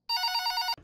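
A telephone rings inside an Indonesian horror video game about a night-shift nurse, one short burst of electronic bell trilling, clear and close, cutting off abruptly with no voices.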